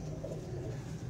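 Wet pigeons huddled in a box give a low, steady cooing that murmurs on throughout, close by, with no voices over it.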